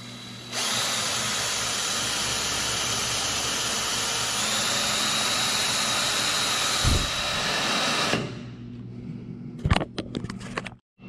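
A power drill runs steadily through a Lexan forestry windshield for a John Deere 35G, a sustained loud whine for about seven and a half seconds, then stops, followed by a few brief knocks and rattles.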